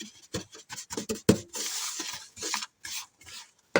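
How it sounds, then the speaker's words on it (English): Butter for oatmeal raisin chocolate chip cookie dough is cut up in a bowl close by, with a rapid run of scraping, tapping utensil strokes and a longer rub in the middle, and no talk. "cut up that butter."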